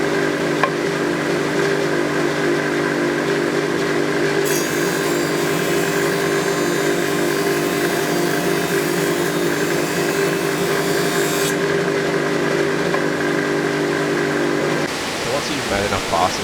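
Surface planer cutting wood, a loud sustained whine and roar of the spinning cutter as the board is fed across, running steadily before the machine's tone drops away at the end.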